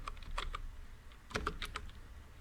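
Java code being typed on a computer keyboard: quiet, close clicks arriving in two short bursts of several keystrokes each, separated by a brief pause, with no talk over them.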